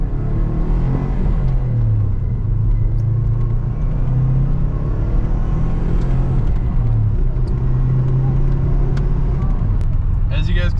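Bone-stock 2004 Subaru WRX with its turbo boxer engine heard from inside while driving, a steady low rumbling drone with mild rises in pitch, constant and close, with a voice talking over it.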